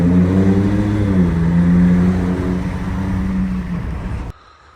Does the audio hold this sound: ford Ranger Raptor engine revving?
yes